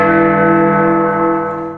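Big Ben, the great clock bell at Westminster, strikes once with a loud, rich metallic toll whose hum lingers and slowly fades, heard alone.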